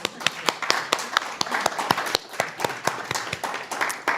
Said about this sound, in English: we have to give them clap